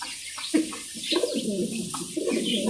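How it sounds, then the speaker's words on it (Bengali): Young adult Mundian pigeons coo close by in soft, repeated throaty phrases, one call flowing into the next over a faint background hiss. "এগুলো হচ্ছে একদম নিউ অ্যাডাল কবুতর"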